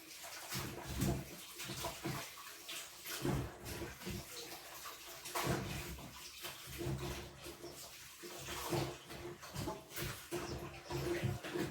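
Rice for jollof is washed by hand in water, with close, irregular sloshing and splashing that keeps rising and falling for several seconds and has no speech over it.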